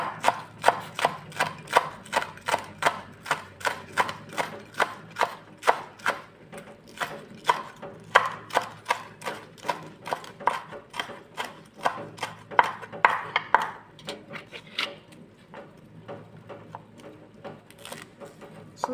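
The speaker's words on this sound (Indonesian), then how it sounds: "Lalu kita iris daun bawangnya ya." A knife chops finely sliced spring onions on a board for a radish meatball soup, giving a steady, rapid run of crisp close taps that barely slows through the whole stretch, with no talking.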